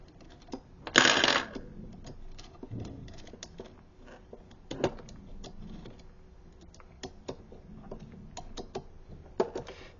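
A screw tightened into a belt clamp that ratchets in place gives a loud rattling burst near the start, then scattered soft mechanical clicks and ticks close by.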